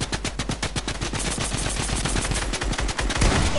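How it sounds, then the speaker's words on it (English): A drum gun in a shooter video game fires a long, rapid burst of loud, close automatic shots, continuous and evenly spaced, with no talking over it. "I got a drum gun."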